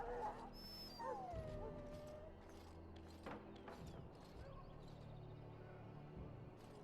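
A wounded dog in the video game Dragon Age: Origins whimpers softly in a few thin, high whines over quiet background ambience, with faint voices underneath.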